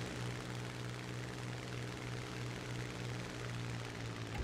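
A propeller fighter plane engine drones steadily in a realistic video game air battle, a constant low throbbing hum at moderate loudness with no talk over it.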